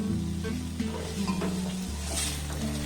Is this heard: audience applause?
no